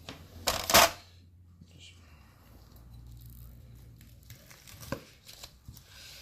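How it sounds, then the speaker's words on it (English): Sharpened knife slicing through smoked babyback ribs cooked in an ugly drum smoker, two sharp crackling cuts near the start and another near the end, close and fairly quiet. "let's cut one more just for the sake of cutting one more"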